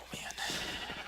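Dyed sheep bleating in Minecraft at a wool farm, a short wavering bleat, faint and thin, with a soft voice present alongside.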